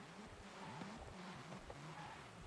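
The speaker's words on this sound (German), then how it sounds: "Hört sich nach einem kleinen Motor an." A small car engine in the Forza Horizon 5 racing game revs and shifts pitch steadily at low volume, with brief tire squeal mixed into the continuous game audio.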